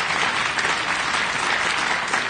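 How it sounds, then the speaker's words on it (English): An audience at a plenary session on decarbonizing energy supply claps in a dense, continuous round of applause, loud and close throughout. "I think that we should give these people a round of applause"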